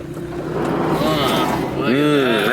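A 1988-1991 EF Honda Civic Si engine and exhaust while driving, with much of the exhaust missing, makes a loud, steady raspy drone that climbs in pitch as it revs, with a second rising sweep near the end.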